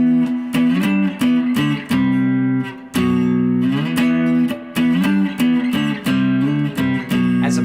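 Electric guitar chugs through a riff in chunky power chords, rhythmic strums with short pauses and a brief break before the pattern resumes, loud and close.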